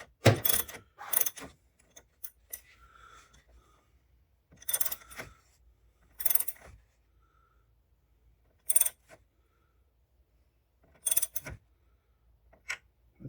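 Wrench tightening a bolt under the hood of a 2014 Chevy Silverado 1500 WT during a light install: short bursts of ratcheting clatter repeat several times with quiet gaps between them, close and moderately loud.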